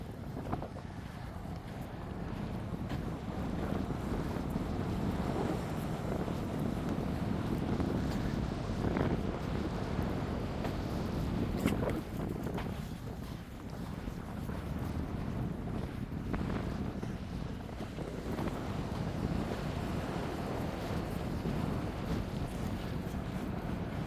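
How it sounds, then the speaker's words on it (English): Steady breeze buffeting the microphone at Wainuiomata Beach during a dog walk, a continuous broadband rush with gusty swells, loud and close, with faint surf underneath and no voices. "It's breezy right now, but not too breezy"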